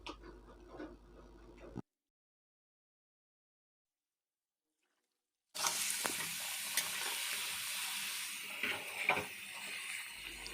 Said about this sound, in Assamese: মাছ ভজাত তেলতে মই আলুখিনি ভাজি লৈছোঁ।